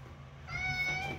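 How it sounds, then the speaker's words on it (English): A cat gives a single soft, drawn-out meow indoors, faint against a quiet household background. "And I have an upstairs cat."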